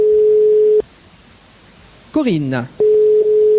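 Steady telephone line tone during a radio call to a contest winner, holding constant before and after a short stretch of a voice, then resuming alone.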